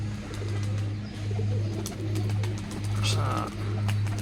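Rajshahi Giribaz pigeons coo in a steady, repeating low rhythm that rises and falls in short phrases, with faint voices and background noise underneath.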